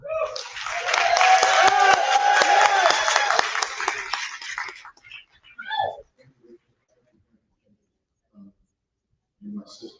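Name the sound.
audience applause welcoming a speaker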